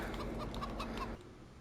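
Chickens on a Farming Simulator 22 farm give a quick series of about five short clucks over a steady low game hum, then the clucking cuts off.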